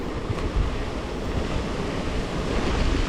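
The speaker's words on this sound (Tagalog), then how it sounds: "So meron po ditong waterfalls." Waterfall in Punggol Park at night, a steady broadband rush of falling water that holds at an even, close level throughout with no voices.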